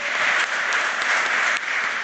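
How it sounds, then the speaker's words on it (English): A wrestling press conference crowd claps and cheers steadily, a dense wash of applause that holds at a loud, even level throughout with no distinct voices. "I just clapped when you all clapped"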